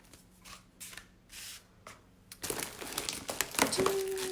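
Rattly plastic bags crinkled and stuffed away, soft scattered rustles at first, then a denser, louder stretch of crackling and rattling close by.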